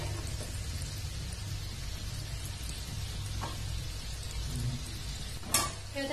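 Dry fruit modaks deep-frying in oil over a low-medium flame, giving a quiet, steady bubbling sizzle with a brief louder crackle near the end.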